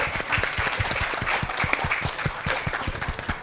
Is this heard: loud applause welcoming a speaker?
yes